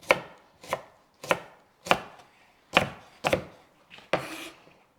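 A knife thuds down onto a chopping board in crisp, slightly irregular strokes, about eight cuts, close and fairly quiet with no voices.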